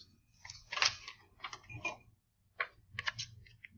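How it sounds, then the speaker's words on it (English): Scissors snipping through paper for a geometry craft: several short crisp cutting bursts in quick clusters, close and fairly quiet, with brief pauses between cuts. "Scissors."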